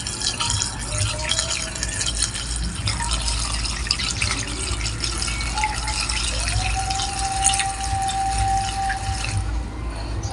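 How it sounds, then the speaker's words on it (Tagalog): Gasoline trickles and splashes steadily into a fuel filter and hose during a motorcycle fuel filter and hose replacement, a continuous close watery pour with faint drips and background hum throughout. "So, lagyan lang natin ng gasolina."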